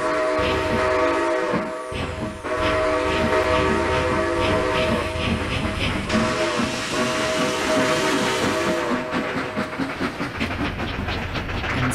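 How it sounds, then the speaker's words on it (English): A steam train chugs along with rhythmic puffing and hissing steam, a steady mechanical rumble underneath, loud and close throughout. "And soon, the train was moving again."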